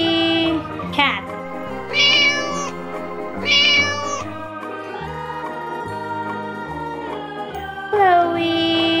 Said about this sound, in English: What kind of animal is that? A cat.